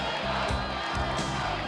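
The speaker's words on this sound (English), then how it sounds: "Crowd chanting" A large crowd at a televised gladiator-style combat event cheers and chants in rhythmic, surging shouts, loud and continuous throughout.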